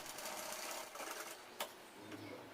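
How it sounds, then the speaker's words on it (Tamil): A sewing machine stitches a cross piece onto a girls' kurti, giving a steady, fast mechanical whir with a brief tick partway through, quiet and alone without talk. "அந்த கிராஸ் பீஸில் வந்து ஒரு படிமான தையல் ஒன்று போட்டுக்கலாம்"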